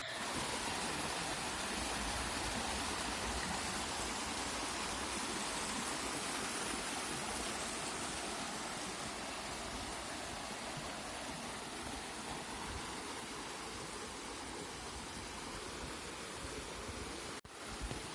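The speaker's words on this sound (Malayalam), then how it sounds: "വെള്ളച്ചാട്ടത്തിൻ്റെ സൗണ്ട് കേൾക്കാൻ നല്ല ഭംഗിയില്ലേ" Waterfall heard as a loud, steady broadband rush of falling water that fills the scene without a break for the full length, close by and with no voices.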